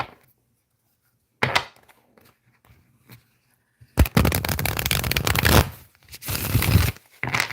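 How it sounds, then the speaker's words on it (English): Tarot cards are shuffled in bursts: a brief riffle after a quiet pause, then a longer, loud crackling shuffle lasting a couple of seconds, and a final short burst, close and without talk. "Shuffle 3 times."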